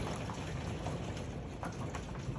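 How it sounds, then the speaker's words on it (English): Steady rain patters densely and evenly throughout, a constant wash of drops with no voices or other sounds standing out. "And I do apologize about the rain."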